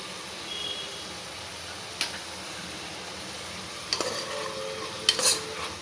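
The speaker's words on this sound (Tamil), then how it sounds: "தக்காளி வெங்காயம் பச்சை மிளகாய் பூண்டு இது மட்டும் போட்டு நல்லா வதக்கிடுறேன்" Tomato, onion, green chilli and garlic sauté in a pan at home, giving a soft, steady sizzle with a few sharp clinks and scrapes of a spoon stirring.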